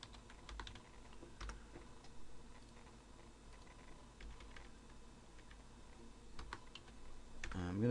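Quick, uneven taps on a computer keyboard, fairly close and steady, with no voice over them, ending in a louder burst.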